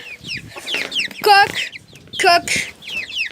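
A hen clucks close by in a few short, sharp bursts, with softer chicken murmurs and chirps in between.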